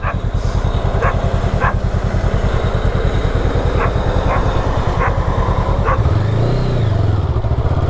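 A dog barks repeatedly in short bursts over a loud, steady engine rumble from a fully loaded gravel truck close by.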